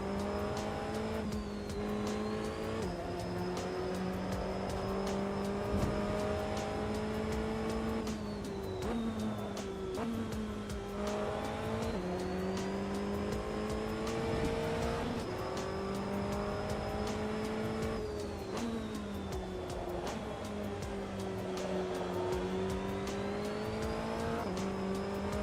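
Race car engine in a sim racing game, held at high revs and weaving to warm up the tyres, a loud continuous drone with the pitch dipping and rising at each shift or lift, no talk.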